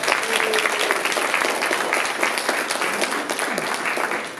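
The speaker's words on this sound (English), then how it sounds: "let's give all the candidates a round of applause" An audience at a candidates' forum breaks into sustained applause, a dense wash of many hands clapping at moderate volume that holds steady before thinning slightly near the end.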